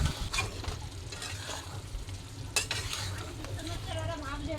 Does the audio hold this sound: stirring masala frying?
yes